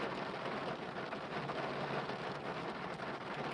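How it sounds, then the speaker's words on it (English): Heavy rain drums steadily on a car while driving on a very wet day in Wigan, a dense continuous wash of drops on the roof and glass, loud and unbroken with no talk. "As you can tell, it's raining quite profusely."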